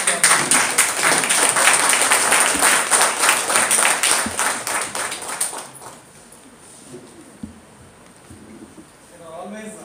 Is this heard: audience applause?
yes